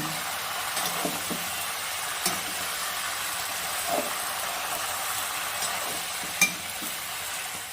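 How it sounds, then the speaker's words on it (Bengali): Potatoes and Malabar spinach fry in a pan with a steady broadband sizzle, a few soft scrapes of stirring scattered throughout and one sharper clink near the end, with no voices. "আমি আলু আর পুঁই শাকটা অল্প ভেজে নিব"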